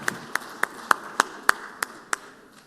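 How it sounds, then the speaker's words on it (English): In the Mississippi Senate chamber, a round of applause for visiting coalition members comes through as about eight crisp, evenly spaced claps at a slow, steady rhythm before stopping. "Just give them all a round of applause."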